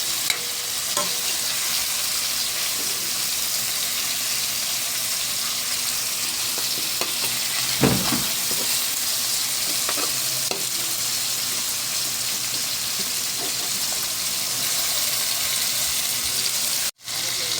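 Fish frying and being stirred in hot oil in a pan for Filipino sinigang sa miso, a steady close sizzle with scraping stir strokes throughout and a sharp clatter near the end, no talking.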